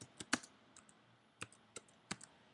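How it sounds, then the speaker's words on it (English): Keystrokes on a computer keyboard as text is entered, a handful of sharp, close clicks spaced irregularly with brief pauses between them, no talking. "I'm going to type in some text."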